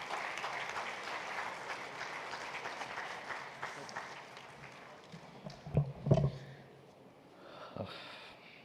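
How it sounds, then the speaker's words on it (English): Faint applause from a seminar audience fades out over several seconds, followed by close breathing and handling noises near a microphone. "Let's have a huge round of applause."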